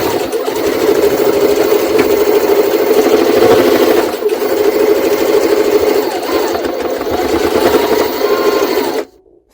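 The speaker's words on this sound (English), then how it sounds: "We're trying to sew leather." A Jaguar SJ-23 sewing machine stitching through many layers of linen and leather, a loud, fast, steady mechanical whirring hum with a brief dip midway before it stops abruptly at the end.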